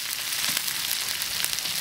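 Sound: stir-frying celery with pork in a wok

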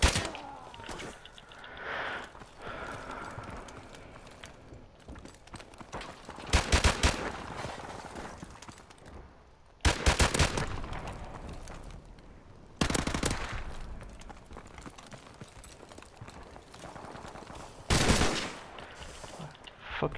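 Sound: gunfire from a gun in a video game

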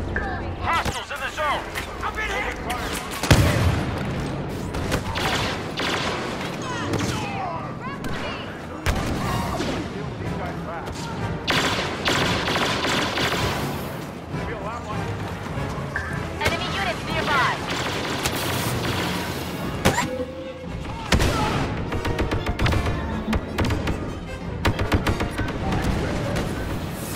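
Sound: EE-3 blaster rifle gunfire in a Star Wars video game

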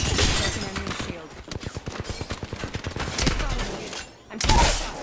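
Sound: gunfire in a video game (Apex Legends)

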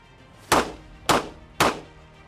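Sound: pistol gunshots at a target

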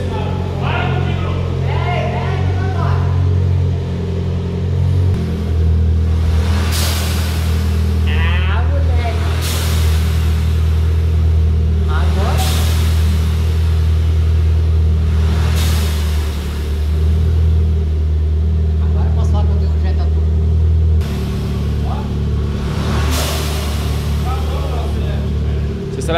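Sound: Volkswagen Jetta turbo engine revved by hand

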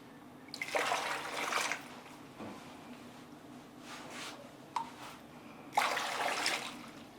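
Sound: pouring clear limewater over pumpkin pieces

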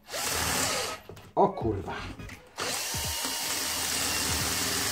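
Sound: power drill boring a hole

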